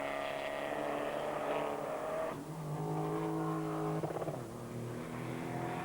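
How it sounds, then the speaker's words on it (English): Race cars at Alton Park in 1997 British motorsport roar down the straight at full throttle, the engine note rising and shifting as one car blasts past another, loud and continuous under a commentator's voice. "Des Winks uses full throttle to blast past on the straight, though."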